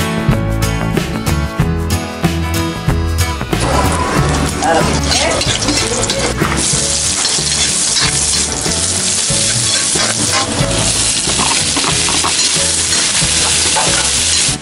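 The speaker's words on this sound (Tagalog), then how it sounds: "nag-start na po kaming magluto dito mga kalab" Birthday-party food fries loudly in a pan while being stirred, a dense crackling sizzle with scraping utensil strokes throughout, music-like tones early on and faint voices in the background.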